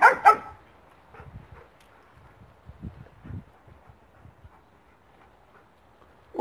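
A Malinois dog barks in a few sharp, loud bursts at the start, then quieter scattered yips and whimper-like sounds follow, with one more bark at the very end.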